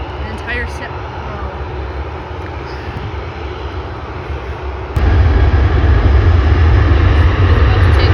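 Airplane engines roaring at Vancouver International Airport during plane spotting, a loud continuous drone that swells abruptly midway into a heavier, deeper roar, with people talking faintly beneath it.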